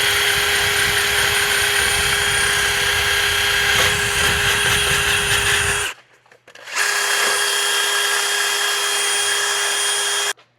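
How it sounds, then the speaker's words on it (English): A wire brush spins on a power drill cleaning rusted threads, with a loud, harsh whirring scrape, stopping briefly for a moment before starting again. "I'm just going to go ahead and use a wire brush on a drill."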